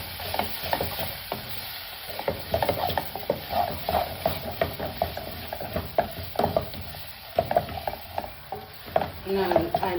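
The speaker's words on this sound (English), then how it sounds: "then I'll stir." Tomato paste sizzling in a pan while being stirred for a Kenyan creamy tilapia dish, with frequent scraping strokes of the spoon over a steady frying hiss.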